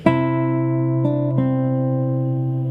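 A sustained guitar chord rings out clearly with a C in the bass, with two more notes plucked over it as the tones sustain and slowly fade.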